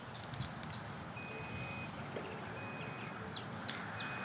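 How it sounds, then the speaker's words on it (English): A thin electronic beep tone from a Ford F-150 Platinum PowerBoost Hybrid pickup's power tailgate repeats a few times at a steady pitch, fairly quiet against a constant outdoor background hum. "It does give you a little beep letting you know that the tailgate is either deploying or going back"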